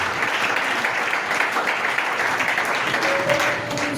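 Church congregation applauding during a worship service, a steady dense wash of clapping that holds evenly for several seconds, with faint voices mixed underneath.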